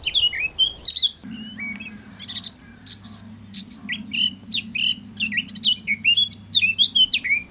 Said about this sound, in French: C'est la fauvette à tête noire.